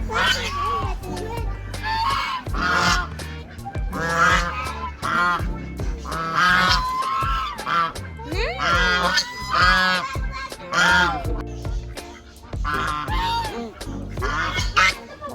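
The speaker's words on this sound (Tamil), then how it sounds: "ஐயோ எவ்வளவு பெரிய வாத்து." Large ducks honk and call repeatedly in loud, raucous bursts close by at a garden in Cameron Highlands, Malaysia, with people talking in between.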